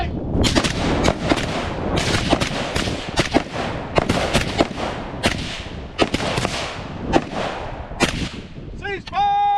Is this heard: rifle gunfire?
yes